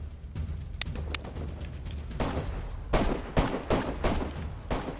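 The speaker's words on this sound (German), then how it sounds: "Ich hab ihn gerade in Beschuss genommen." Gunfire from the survival game DayZ at a contested ATC tower, with sharp bursts and irregular shots scattered over several seconds amid background game ambience, several close and loud.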